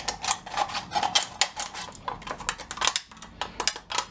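Tin snips cut through a thin aluminum pan, making rapid crisp clicking snips and crinkling metal in an uneven rhythm, close and fairly quiet.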